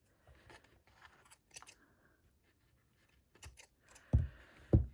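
Scissors snip ribbon on a paper-craft pouch's bow. Soft handling rustles come first, then two sharp, close cuts near the end.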